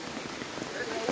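Rain falls steadily as a constant, dense patter on surfaces outdoors at a spearfishing headquarters, with faint voices in the background.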